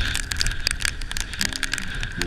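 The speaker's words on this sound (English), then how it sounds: "now we have a little more rain." Rain falls on a sailboat on a river near a coastal bar, making dense, irregular pattering and tapping across the deck and rigging, loud and close, with no talking.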